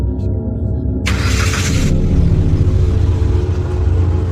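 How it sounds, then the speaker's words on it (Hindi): A heavy mini truck engine starts up and settles into a deep, loud, continuous rumble close by. A brief hissing burst comes near the start. "मिनी ट्रक का भारी इंजन एक भयानक गड़गड़ाहट और काले धुएं के साथ स्टार्ट हुआ।"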